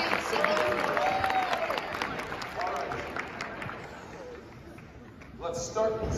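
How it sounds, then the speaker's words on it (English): High school show choir students at a competition break into a round of applause, a steady wash of clapping with a few high whoops riding over it before it fades and a voice starts. "Give yourselves a little round of applause."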